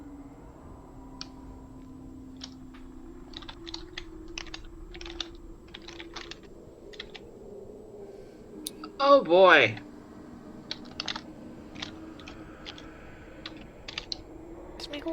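Quick bursts of typing on a computer keyboard, light clicky keystrokes in short runs, fairly faint, with a voice speaking briefly and a low background hum.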